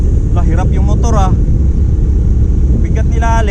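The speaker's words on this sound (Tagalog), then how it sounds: "Lah, hirap yung motor ah." A motorcycle engine labours under a heavy load, a steady loud drone running throughout with voices talking over it at several points.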